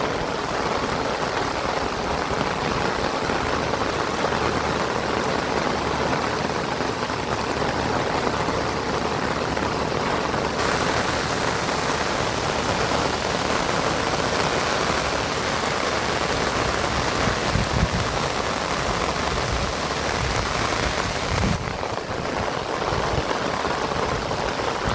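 Heavy monsoon rain pours steadily over Rangpur village, a dense, loud, unbroken hiss of drops drumming on surfaces, with no pause across the whole stretch and no voices.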